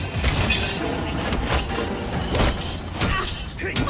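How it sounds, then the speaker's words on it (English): Fireworks burst in Gotham City in the video game Gotham Knights, giving several booming cracks and thuds over a dense, noisy backdrop, with brief talk mixed in. "fireworks. Nice."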